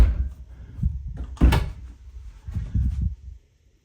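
Double wooden closet doors are opened and closed, producing a few soft bumps and rattles followed by a sharper knock, close and moderately loud.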